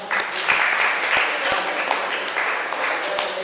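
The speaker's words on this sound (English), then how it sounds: "Clap." A group in a soft-skills class claps together in a dense burst of applause, with a few sharper individual claps standing out and faint voices underneath.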